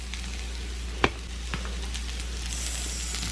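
Peppers and onions sizzling in a hot pan on high heat for an omelette, a steady close frying hiss with a sharp tap from a utensil and light stirring, no talk.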